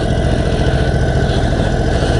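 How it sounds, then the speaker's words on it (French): A 2021 Indian Chief Dark Horse motorcycle engine idles close by in town after running for about ten minutes, a loud steady low rumble throughout with no talking. "Alors on est resté au moins 10 minutes avec le moteur allumé là."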